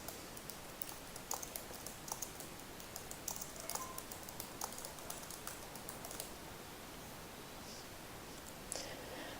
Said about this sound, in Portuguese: E então digitar o comentário na caixa que aparece